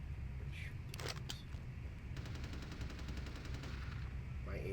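A .38 revolver fires in Vampire the Masquerade Bloodlines, a few sharp cracks followed by a fast rattling burst of shots, all under a steady low background hum.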